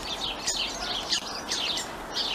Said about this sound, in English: That starling is singing very noisily.